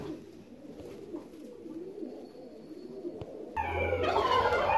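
Fancy ornamental pigeons cooing softly at close range in a quiet space, low murmuring calls, followed near the end by a louder burst of brighter bird calls.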